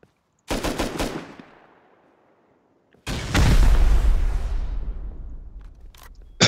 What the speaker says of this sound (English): go ahead and just shoot like the four corners, but then blow the hatch